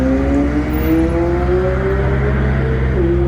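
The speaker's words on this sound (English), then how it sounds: "Those Mustangs sound so good, dude." A Ford Mustang engine revs loudly and close, its pitch climbing steadily as it accelerates, then dropping back at the end.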